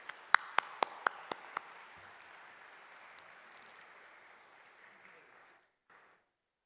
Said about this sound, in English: give him a big round of applause to our chief guest today